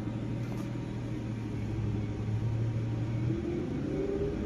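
Slow expressway traffic near Muntinlupa gives a steady, droning engine rumble with a low hum, as if heard from inside an idling vehicle, constant and moderately loud with no voices.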